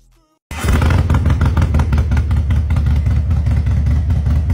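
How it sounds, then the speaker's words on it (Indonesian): A Harley-Davidson motorcycle engine starts up after a short quiet moment and settles into a loud, steady, throbbing rumble with a regular pulsing beat, close by. "Kalau dengar suara blar-blar-blar di kejauhan, bisa jadi itu motor paling ikonik di dunia"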